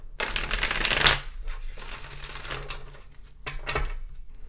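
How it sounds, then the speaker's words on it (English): Tarot cards are shuffled in a quick riffling burst, followed by softer shuffling and a second short riffle, close by in a quiet room. "I'm going to shuffle these really well."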